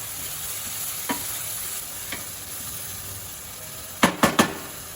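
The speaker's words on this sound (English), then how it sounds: "add butter, little bit of oil. After melting the butter, we'll add the finely chopped onions" Finely chopped onions frying in melted butter and a little oil in a kadai, a constant close sizzle with a few light clinks and a cluster of sharp stirring taps near the end.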